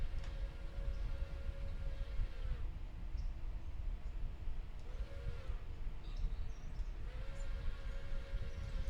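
Train engine 801 approaches in the Railroader railway game, a low rumbling drone with a repeating wavering tone sounding several times, quiet and steady throughout.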